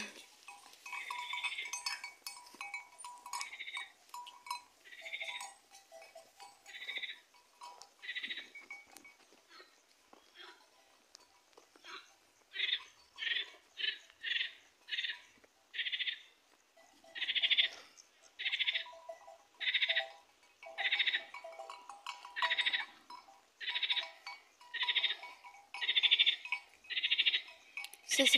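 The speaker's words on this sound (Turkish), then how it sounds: "Evet arkadaşlar, bu elci koyunlarımdan birisi." Sheep on a farm bleat in a long series of repeated calls, moderately close, growing steadier and more rhythmic in the second half, with faint rustling between calls.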